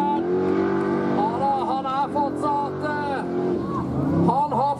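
A single-seater race car accelerates hard on a track, its engine note rising and falling through gear changes, heard under a commentator's continuous talk.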